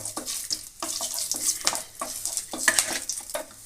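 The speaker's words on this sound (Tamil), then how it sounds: "இப்போ இந்த பட்டை கிராம்பு இலை எல்லாத்தையும் தாளிக்கிறதுக்கு போட்டோம்" Cinnamon, cloves and bay leaf crackle and sizzle in hot oil, close up, with scattered pops and clinks over a steady frying hiss.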